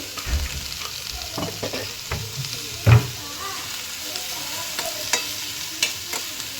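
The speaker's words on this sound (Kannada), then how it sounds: "ನೋಡಿ ಈ ಥರ ಫ್ರೈ ಮಾಡ್ಕೋಬೇಕು." Poppy seeds fry in a pan for mutton sambar with a steady low sizzle, while a spoon stirs and scrapes with occasional sharper knocks against the pan.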